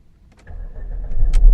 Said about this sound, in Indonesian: Untuk nyalain mesin tinggal masukin kunci ke sini, injek rem dan putar.